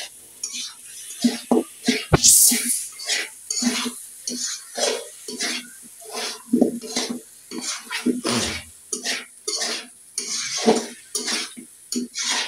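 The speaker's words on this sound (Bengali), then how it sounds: "প্রধান বাবুর্চি সাহেব অনেক নাড়াচাড়া করতেছেন এটাকে।" Beef being stirred in a cooking pot, with repeated scraping and clanking strokes in an uneven rhythm, close and moderately loud, plus a few faint sizzling touches.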